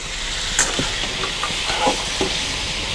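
Chicken sizzles in a hot pan while a utensil scrapes and stirs it in several quick, close strokes.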